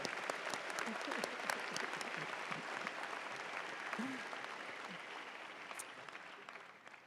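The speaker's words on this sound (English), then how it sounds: "Can we please give another round of applause for Dr. Hayden?" Audience applauding at a Roosevelt University spring commencement ceremony, a steady dense wash of clapping from a large crowd, fairly distant and even throughout.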